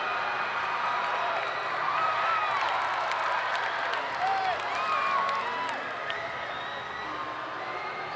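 A high school basketball crowd at American Fork versus Lone Peak murmurs and cheers late in a close game, with scattered whoops and shouts rising over a steady roar of the gym, heard somewhat distant and moderate in level.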